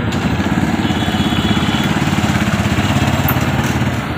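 The repaired engine of a motorcycle tricycle runs steadily, a close, continuous putter with a fast even pulse and no breaks, loud throughout.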